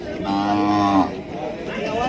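A Khillar bull lows once at the Sangola cattle market, a close, drawn-out moo lasting about a second, followed by fainter lowing and the murmur of the market.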